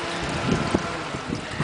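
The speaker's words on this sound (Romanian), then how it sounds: "bate vântul, e frică naiba" Wind gusts buffet the microphone outdoors at night beside a front yard, a dense, rumbling rush with a few brief thumps, loud and steady throughout.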